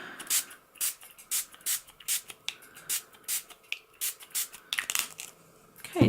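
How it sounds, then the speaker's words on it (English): A spray bottle mists water onto watercolour paint in a series of about a dozen short, crisp spritzes at a regular quick rhythm, close and fairly quiet, with a slightly messier burst near the end. "So I'm just spraying on water to get those colours moving."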